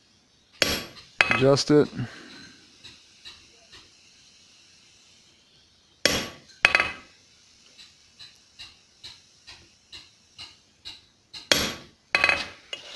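A hammer taps a punch on a forged railroad spike while making a tomahawk, giving sharp metallic rings at intervals plus a run of lighter, evenly spaced taps. A brief spoken remark is heard early on.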